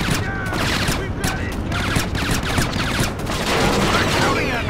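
Rapid gunfire in the stealth video game Splinter Cell: Chaos Theory, a dense stream of sharp shots running steadily and loud, with some talk mixed in.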